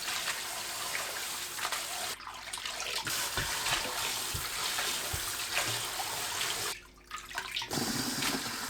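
Dried taro stems are rinsed in water, with running, splashing water in a sink that is steady for most of the time and drops out briefly twice, plus a few soft handling knocks.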